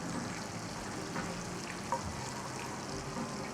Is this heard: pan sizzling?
yes